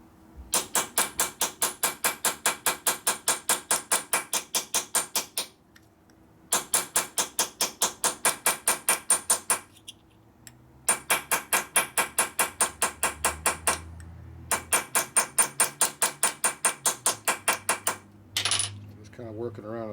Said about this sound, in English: Take your flat punch and beat on it a little bit.